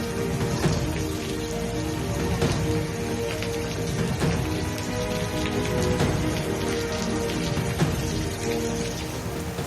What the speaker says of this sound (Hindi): कानपुर में भी तेज बारिश के साथ ओलावृष्टि हुई